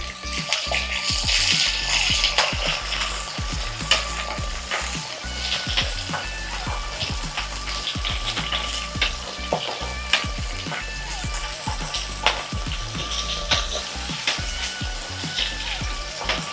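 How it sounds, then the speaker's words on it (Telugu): Sambar onions frying alongside mutton liver in a pan, a busy, bubbling sizzle with constant sputtering pops and clicks, close and steady throughout with no one speaking. "ఇవి ఫ్రై అవుతుండగానే ఇవి సాంబార్ ఎర్రగడ్డలు ఇవి దీంట్లోకి వేస్తున్నా"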